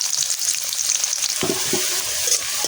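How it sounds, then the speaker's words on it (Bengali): Chopped onions fry in a cup of white oil in a wok for a duck curry, giving a steady, close sizzling hiss with a few soft stirring knocks partway through and no voices. "একটা কড়াই বসিয়ে দিয়ে তাতে 1 কাপ সাদা তেল দিয়ে দিলাম, 1 কাপ পেঁয়াজ কুচিয়ে দিয়ে দিলাম"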